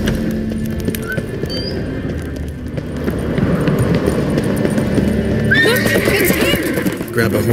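A horse gallops with rapid clip-clop hoofbeats and lets out a whinny in the fantasy game The Witcher 3: Wild Hunt, loud and continuous amid game sounds, with a voice talking over it.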